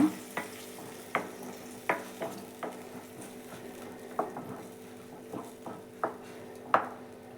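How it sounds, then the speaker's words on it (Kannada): Ground masala paste fries in a pan for paneer masala curry, with a steady soft sizzle under about a dozen sharp spoon scrapes and taps against the pan, close, with no talk. "ಈಗ ನಾನು ರುಬ್ಬಿರೋ ಮಸಾಲೆ ಸೇರ್ಸ್ಕೊಂಡಿದ್ದೀನಿ ಇದನ್ನು ಸ್ವಲ್ಪ ಚೆನ್ನಾಗಿ ಫ್ರೈ ಮಾಡ್ಕೊಳ್ಳೋಣ"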